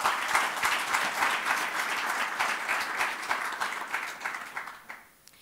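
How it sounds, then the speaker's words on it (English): An audience at an academic industry seminar gives a big round of applause for a former Chief Justice of India, dense and steady clapping that holds for several seconds before fading out at the end. "May I request a big round of applause."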